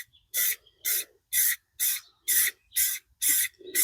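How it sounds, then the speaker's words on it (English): A spray can lays a light coat of paint on a Pro-Line Chevy K10 RC body in seven short, evenly spaced hissing bursts, close and fairly quiet, with faint clicks between them. "we're going to just start off by giving this a very light coat"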